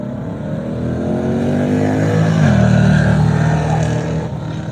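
Drag racing cars at Street Legal Dragway launch and accelerate in a loud, sustained engine roar whose pitch climbs, then shifts gear partway through and keeps pulling hard, with no talking over it.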